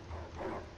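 A single short bark from a dog in the Lego Harry Potter video game, brief and moderately faint against game background noise.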